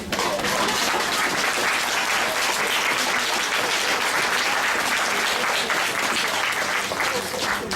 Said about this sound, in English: would you stand with them and give them a round of applause?